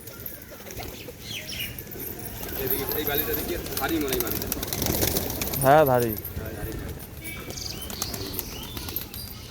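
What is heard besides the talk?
domestic pigeons flapping wings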